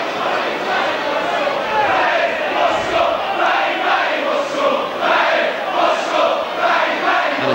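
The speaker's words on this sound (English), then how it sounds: "And the Charlton crowd having a bit of a go at Paul Gascoigne now." A football crowd at a 1988/89 Charlton Athletic versus Tottenham Hotspur match jeers a Tottenham player, a loud sustained roar of many voices swelling and ebbing, with a commentator talking over it.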